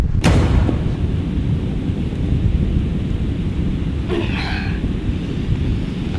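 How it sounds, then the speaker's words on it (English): A passing thunderstorm sends a deep, loud rumble of thunder that starts with a sharp crack and rolls on continuously, with gusty wind and rain noise underneath. "The storm is currently passing through."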